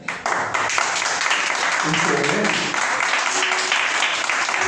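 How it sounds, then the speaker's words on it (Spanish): Applause fills a church during a Sunday school gathering, a dense, loud wash of clapping hands that starts abruptly and carries on steadily, with some voices mixed in beneath it. "denle un aplauso a él"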